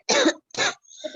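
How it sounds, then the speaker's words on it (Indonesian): A person coughs twice in close succession, harsh and close, followed by a brief throat-clearing rasp. "ada yang sedang batuk"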